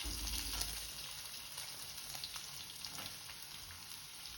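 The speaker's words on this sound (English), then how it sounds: "Then add 1 or 2 red chilies and fry them" Red chilies frying in hot oil with mustard and cumin seeds in a kadai, a steady close sizzle with fine crackling, continuous and fairly quiet throughout.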